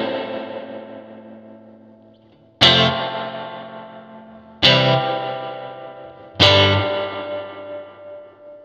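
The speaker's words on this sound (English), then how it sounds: "this is a hand-wired Princeton reverb with a real reverb tank" Three loud, separate strummed chords on a Stratocaster electric guitar through a hand-wired Fender Princeton Reverb amp with a real spring reverb tank, each one ringing out and decaying slowly, lightly driven, with no talking.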